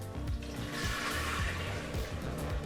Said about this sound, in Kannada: ನಾವು ತೊಗೊಂಡಂಥ 2 ಕಪ್ ಅಳತೆ ಅಕ್ಕಿಗೆ 3 ಕಪ್ನ ಅಳತೆ ನೀರನ್ನು ಸೇರಿಸ್ಕೊಳ್ತಾ ಇದ್ದೀವಿ